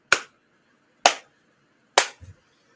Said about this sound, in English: let's give this man 3 claps